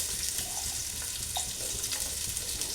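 Onions frying in hot oil and ghee in a pot for jackfruit biryani, giving a steady, soft sizzle throughout with faint clinks.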